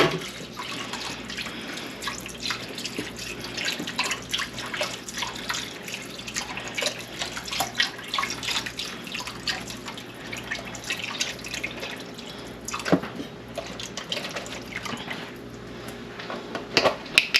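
Beef broth poured from its container into a crock pot while making garlic butter steak bites, a steady close trickle and splash of liquid running for most of the pour with small drips, no talking.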